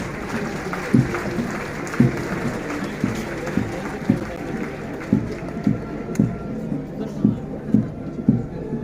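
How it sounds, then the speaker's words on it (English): An audience at a military aviators' graduation parade applauds in a dense, continuous wash of clapping. Regular louder beats pulse through it about once a second, and a voice carries faintly underneath. "Please give a huge round of applause once again."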